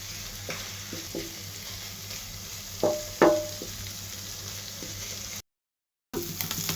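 Fish pieces fry in a pan with spices and cumin paste, giving a close, steady sizzle with a few sharper clatters of stirring. The sound drops out briefly, then the sizzle returns.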